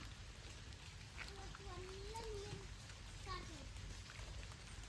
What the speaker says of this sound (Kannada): ಒಳ್ಳೆ ಮಳೆ ಬಂದಿದೆ ಇವತ್ತು